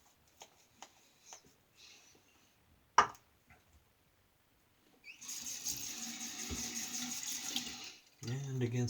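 A tap runs water into a sink during a shave with a vintage Penn adjustable razor, a steady hiss of several seconds after soft clicks and a sharp knock, then water starts again near the end.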